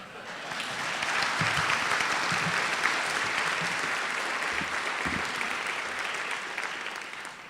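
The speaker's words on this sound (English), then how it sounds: "I told Jack that you would applaud for him when he got to the microphone" Warm applause from a dinner audience as a man named Jack reaches the microphone, a full, steady wash of clapping that rises quickly, holds for several seconds and tapers slightly, with a few faint low thumps underneath.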